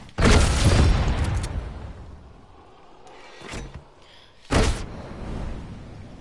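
Cannon blasts in a video game arena: two heavy booming discharges with long noisy tails, the first loud and sustained, the second a few seconds later after a quieter thump, with no talk over them.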